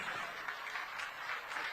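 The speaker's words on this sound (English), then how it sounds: "Let's continue to clap." A crowd at an outdoor political campaign rally claps faintly and at a distance, a soft, continuous patter of hands.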